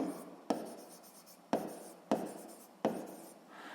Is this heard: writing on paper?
yes